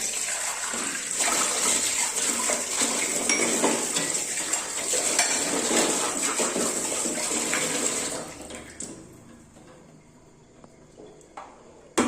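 Steel vessels being washed with rice water mixed with detergent and toothpaste, with running water, clinking metal and scrubbing that go steadily for about eight seconds, then drop away into quieter, sparse clatter.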